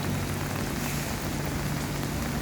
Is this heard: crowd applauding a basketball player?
no